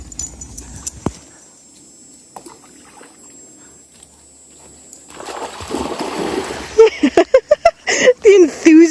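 After a quiet outdoor stretch at a pond-side campsite, a dog plunges into the pond water, setting off a burst of sloshing and splashing, followed by a voice or whine.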